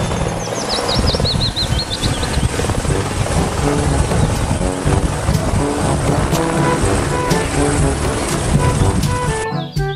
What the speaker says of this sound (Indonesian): Yang ini ada helikopter.